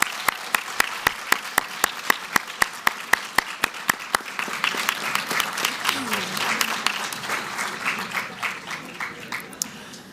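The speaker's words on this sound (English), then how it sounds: "a big round of applause for all of you" Applause from the audience at a medical school Match Day event, opening with slow, rhythmic, sharp claps that swell into a dense, sustained round of clapping with murmuring voices beneath.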